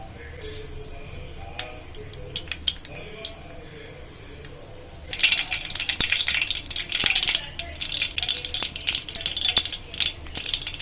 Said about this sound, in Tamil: எண்ணெய் காஞ்ச உடனே அதில் கொஞ்சம் கடுகு போட்டு தாளிக்கலாம்